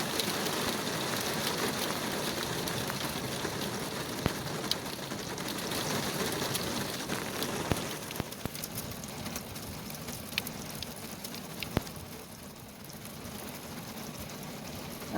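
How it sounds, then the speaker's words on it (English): Hailstones drum on the roof of a campervan parked on Orkney, a dense continuous patter that holds steady throughout with scattered sharper hits and no voices. "We woke on Friday morning to the sound of hailstones loudly hitting the van."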